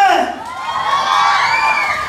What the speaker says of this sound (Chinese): 好，掌声欢迎一下 XOM。